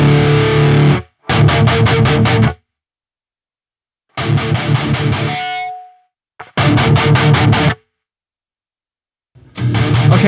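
An electric guitar played through the Neural DSP Fortin Cali plugin with the bass knob pulled out for extra saturation, heavily distorted chugging bursts separated by short silences, one chord ringing out and fading before the riff resumes.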